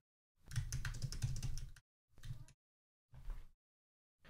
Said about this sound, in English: I'm going to go ahead and add a few more key steps to this process just by typing in their titles